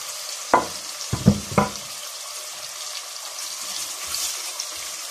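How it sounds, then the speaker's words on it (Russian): Onions for Uzbek plov hit hot oil in a few sharp sizzling bursts near the start, then a quieter, steady frying crackle continues. "Пускай жарится лук."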